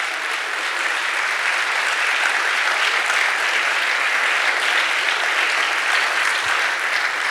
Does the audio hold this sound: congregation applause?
yes